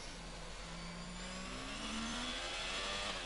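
Formula 1 car engine in the F1 22 racing game at Bahrain, a steady high whine rising in pitch as the car accelerates past a rival on electric boost, loud and continuous with no talk.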